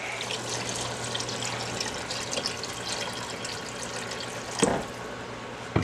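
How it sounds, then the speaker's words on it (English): Water runs steadily into a pot of rice for Liberian jollof rice, a continuous splashing fill nearby, ending with a couple of brief knocks. "So I'm gonna go ahead and add water."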